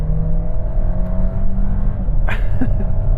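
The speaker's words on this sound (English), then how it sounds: "I'm going to launch the car, and while I'm doing it, I'm going to time it from 0 to 60." An MG SUV's engine roars steadily under a hard launch from a standstill on a wet road, loud and close, with a brief rattling burst partway through.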